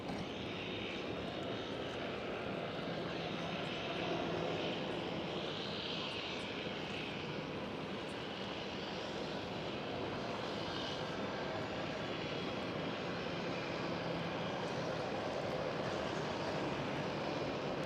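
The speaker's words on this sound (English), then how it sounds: "Emirates SkyTeam 777 taking off right now, runway 24" Emirates Boeing 777 taking off from runway 24 at Schiphol, Amsterdam, a sustained wide roar of jet engines somewhat distant, steady and slowly shifting over eighteen seconds, heard alone without talk.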